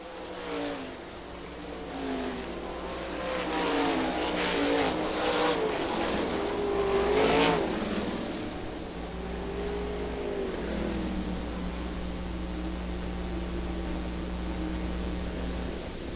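Sprint cars at Hartford Speedway Park in a three-car battle out of turn 4, engines roaring and revving over a steady loud drone that swells as the pack passes, then settles into a continuous rumble with crowd and track noise.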